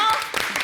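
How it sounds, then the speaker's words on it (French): A short burst of studio audience applause on a French daytime TV show, dense and fairly loud, with a voice carrying over it. "nous sommes toujours en compagnie de Arantès de Bonali qu'on applaudit."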